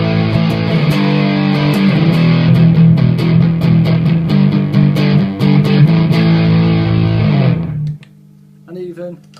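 Heavily distorted electric guitar chords through a Big Muff fuzz and Strymon Blue Sky reverb ring out loud and sustained, washed in reverb, then cut off abruptly near the end leaving a faint tail.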